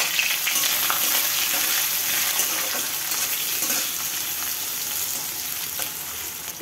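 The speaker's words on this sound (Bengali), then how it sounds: "কেটে রাখা পেঁয়াজগুলো আমি তেলের মধ্যে দিয়ে দেব" Chopped onions fry in hot oil after the tempering spices, giving a loud, continuous, close-up sizzle with faint stirring movement and no voices.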